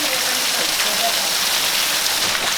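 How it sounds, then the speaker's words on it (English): Steady rain falling outdoors near Haleakala at a van pickup spot, a dense, loud, even hiss of drops on surfaces filling the whole stretch, with voices faintly mixed in. "It's raining."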